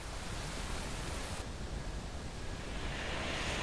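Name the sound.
waterfall roaring in mist, Guyana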